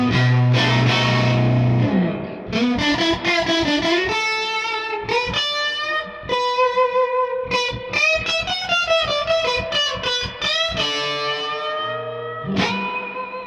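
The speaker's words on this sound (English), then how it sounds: "the amp is on 10, there's no pedal involved, this is just the distortion from the amp" An electric guitar plays a bluesy phrase with single notes and chords through a handwired '64 Custom Princeton Reverb amp turned up to 10 with no pedal, so the grit is the amp's own overdrive. The tone is loud, close and sustained, with no talking.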